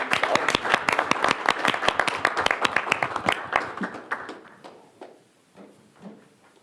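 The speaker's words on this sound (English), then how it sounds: "I wanted everybody to give him a round of applause." Student senators at a university meeting applaud a colleague's teaching award, with dense, loud clapping for about four seconds that thins out into a few scattered claps.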